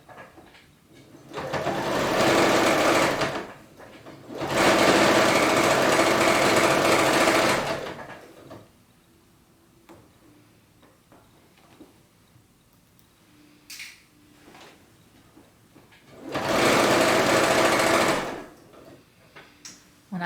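Sewing machine stitching quilt fabric at a short 1.8 stitch length, running in three loud, steady bursts of a few seconds each, separated by quiet pauses with light handling sounds.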